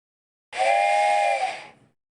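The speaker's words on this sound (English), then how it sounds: "let out a blast from its whistle" A single loud steam whistle blast, a steady shrill tone held for over a second before trailing off.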